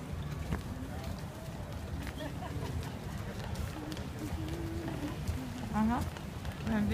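Horse hooves clip-clop at a steady trotting rhythm amid busy outdoor street noise in Central Park, New York, with voices talking nearby and birds chirping briefly.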